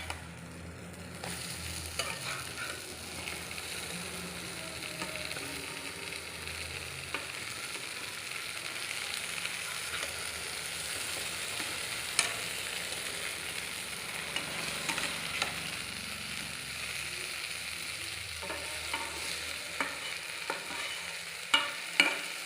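Brinjal (eggplant) slices frying in a pan for an Assamese bhaji, being stirred now and then; a steady close sizzle runs throughout with occasional spatula scrapes and clinks near the end, no voice.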